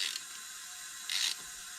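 Ratchet tool tightening on a Chevrolet Malibu engine, two short quiet ratcheting bursts at the start and near the end, close by with no talk.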